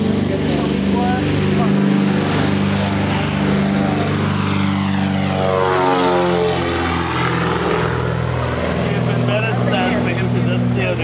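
A small propeller airplane takes off on a short run at Santa Rosa Mission in Moruca, its engine droning loud and close, then rising in pitch as it climbs and sweeps past, with a voice faintly underneath.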